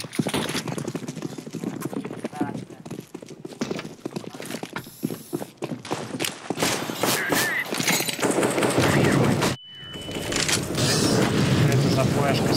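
Rapid bursts of AK rifle fire in a Counter-Strike: Global Offensive match, crackling in dense volleys through most of the stretch, with a brief gap near the end before shooting resumes, under a player's talk.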